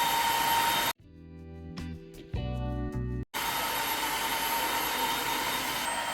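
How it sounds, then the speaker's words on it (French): An Ultenic AC1 Elite cordless vacuum cleaner running with a loud, steady whirring hiss, broken by about two seconds of near-silence filled with brief tonal mechanical whines, then resuming its constant roar. "Là, je suis en mode aspirateur. Donc, il va juste aspirer."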